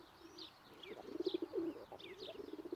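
A grey-capped male tumbler pigeon coos in a garden, soft throaty rolling calls repeating in a steady rhythm at close range, with faint chirps from other birds behind.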